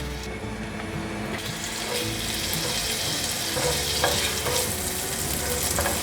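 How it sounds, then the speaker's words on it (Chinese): Ginger stir-frying in sesame oil in a flat non-stick pan, a dense continuous sizzle with stirring scrapes, loud and close with no voices. "冷油把姜放进来炒香"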